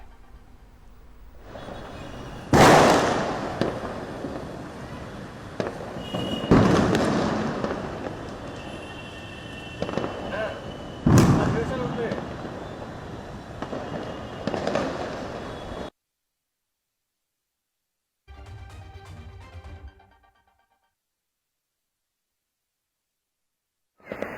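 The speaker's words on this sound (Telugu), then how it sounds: "స్వీట్లు పంచుకుని క్రాకర్స్ కాలుస్తూ హుషారుగా వేడుకలు జరుపుకుంటున్నారు." Several loud bursts of Diwali firecrackers go off at intervals over a crackling, rumbling background, then the noise cuts to near silence with a brief faint burst.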